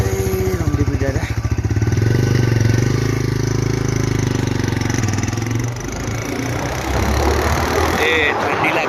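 A new motorcycle ridden on the road, its engine a loud, close, pulsing drone that rises and holds, then wind rush and road noise take over while people talk over it.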